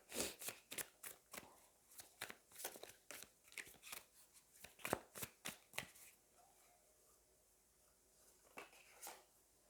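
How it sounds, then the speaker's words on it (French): Tarot cards are shuffled and drawn, giving a quick series of soft, crisp riffling and slapping sounds close by, then a pause and a couple of final card snaps, faint and with no talking. "on va aller prendre encore une autre carte"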